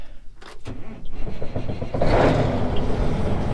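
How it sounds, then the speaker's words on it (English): A 510 horsepower engine starts up: a few sharp clicks, then a rising crank that catches into a loud, steady running rumble up close, with no talk. "So I'm gonna start this 510 horsepower up and get her moving."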